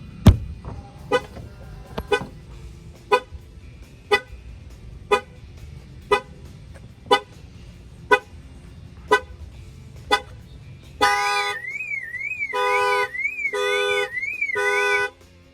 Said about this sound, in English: I'm gonna go ahead and bang on the window, and that will fire off the alarm